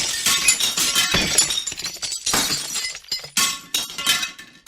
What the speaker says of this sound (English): The plates, saucers and bowls crashed to the floor and